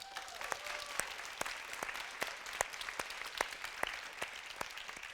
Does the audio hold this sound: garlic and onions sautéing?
no